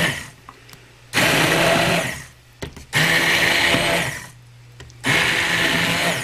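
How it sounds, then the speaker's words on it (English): Blender blending apple sauce with sugar and cinnamon stick, three loud bursts of whirring motor separated by short pauses, close and without talk. "Alright guys, so now we're just going to blend this."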